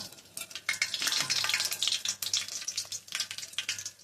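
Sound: whole spices sizzling in hot oil

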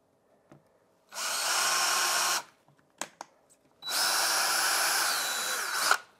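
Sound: power drill drilling floor outlet cover

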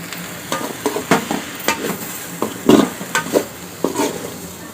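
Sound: cabbage being stir-fried with chili powder

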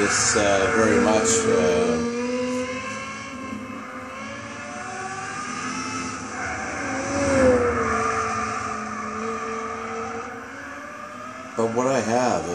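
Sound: Lexus LFA car engine racing in video game Gran Turismo 6

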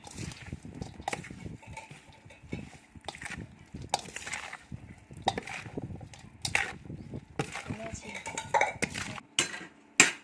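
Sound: stirring spicy Mama instant noodle salad in a bowl

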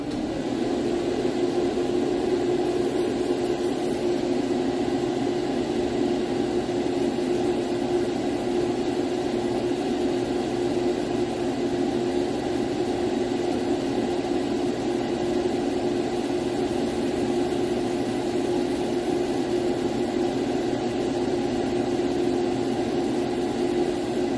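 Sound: exhaust fan running during fiber laser engraving

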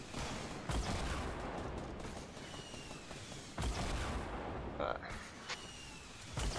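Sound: gunfire in video game Fortnite

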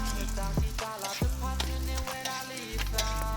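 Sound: roti frying in bubbling hot oil

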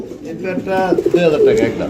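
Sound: pigeons cooing at pigeon farm

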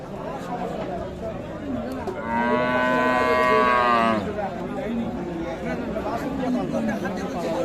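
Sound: Sahiwal cattle mooing at market

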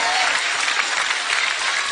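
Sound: audience applause and cheering

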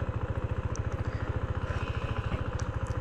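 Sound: KTM Duke 390 motorcycle engine, clutch and first gear

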